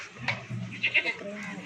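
A goat at a goat farm gives a brief nasal bleat close by, with someone talking over the farm background.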